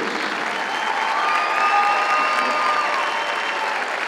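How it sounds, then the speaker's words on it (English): Sustained applause from a basketball crowd during a halftime tribute at an Illinois women's game, a steady dense wash of clapping with some cheering tones, loud and continuous throughout. "one more round of applause for our brave survivors and warriors"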